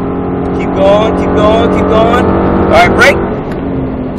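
A Mustang Shelby GT engine roars at full throttle on a track, its pitch climbing through the rev range with a loud, close drone, while an instructor's voice talks over it.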